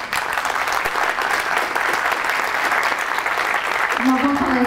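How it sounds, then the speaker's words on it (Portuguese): Audience at a WordCamp São Paulo talk applauds a speaker, a dense steady wash of claps filling the hall, with a voice starting to speak over it near the end. "Palmas para ele."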